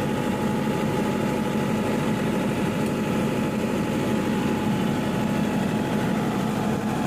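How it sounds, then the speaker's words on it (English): A generator engine runs at a steady idle, a continuous low droning hum with constant vibration and no breaks, with no talk over it. "Saka naman i-on dito sa kabilang generator."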